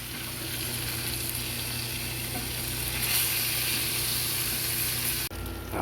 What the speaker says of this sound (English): I got my fried up halibut here